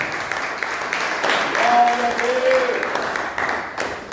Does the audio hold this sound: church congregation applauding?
yes